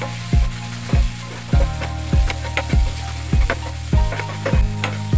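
A spoon stirs a sizzling mix of Kashmiri red chili powder and turmeric in a pan, with regular scraping knocks about every half second over a constant frying hiss, close up with no speech.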